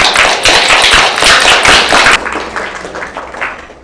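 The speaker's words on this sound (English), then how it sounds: "Round of applause for my new boss." Dense audience applause for a speaker at an academic talk on interpersonal speaking and foreign language literacy, loud and continuous many-handed clapping that drops to a softer, thinning patter after about two seconds, with no voices over it.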